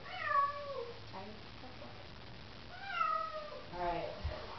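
A cat being bathed meows twice, long plaintive drawn-out cries spaced a few seconds apart, close and clear, with soft splashing and brief human voices between them.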